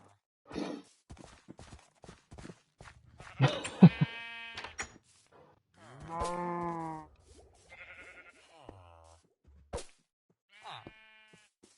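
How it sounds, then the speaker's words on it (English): Black sheep in the Minecraft video game bleating in several short separate calls, some near and loud, others fainter, between scattered clicks and footsteps, with no talking. "There's a few of these black sheeps."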